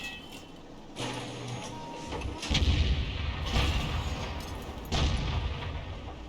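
Tank gun firing in a video game, with a few heavy booming shots spaced a second or two apart over a rumbling background.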